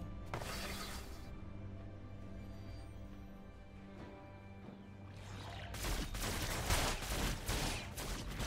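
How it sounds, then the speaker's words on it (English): A turret crumbles in League of Legends as a burst of crashing, shattering destruction erupts amid steady game music, swelling into a loud, dense clatter of impacts in the final seconds. "Team's turret has been destroyed."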